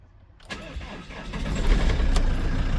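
An engine turns over and catches in a self-built camper van, a short crank followed by a steady idle that grows louder and fuller over a couple of seconds, heard close with no talking.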